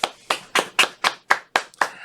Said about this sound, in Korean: 오늘은 그런 의미에서 함께 박수를 치면서 뉴스를 시작해 보겠습니다.